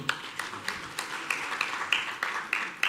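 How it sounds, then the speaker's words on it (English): Sparse applause from the audience at a business executive breakfast on credit for small businesses, a scattering of distinct claps spaced through the moment at moderate level, with no talking over it. "A round of applause for Kwame."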